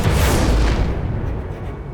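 A single gunfire effect, a loud close boom that bursts out at once and then fades away over about two seconds, heard alone without any voices.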